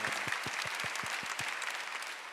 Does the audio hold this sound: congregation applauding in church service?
yes